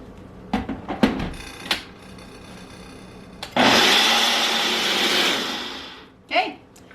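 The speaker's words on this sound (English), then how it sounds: "Lid goes on and onto the blender." A blender mixing a cherry vanilla Shakeology shake roars loudly for about two and a half seconds after a few clicks and knocks, then stops, followed by a short clatter.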